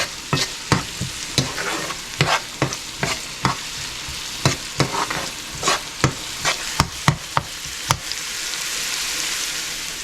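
Onions sautéing in hot oil for Schezwan chicken fried rice, a steady sizzle broken by frequent sharp scrapes and clacks of a spatula stirring the pan, close and fairly loud, with no voices.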